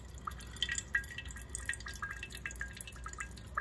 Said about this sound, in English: now what we're doing is washing off all the sodium hydroxide that's clinging to this resin right now